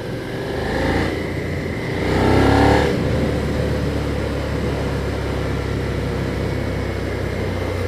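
A Suzuki SV650 V-twin motorcycle pulls hard under throttle, its engine swelling in a loud rising roar before settling into a steady, close drone, with no talk over it.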